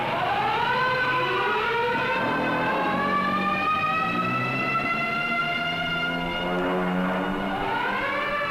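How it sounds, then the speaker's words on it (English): A city civil defense warning siren wails during a Cold War nuclear attack drill in Portland, Oregon, rising and falling tones sweeping continuously, loud and echoing, with no voices heard. "the banshee wail of the siren echoes the warning"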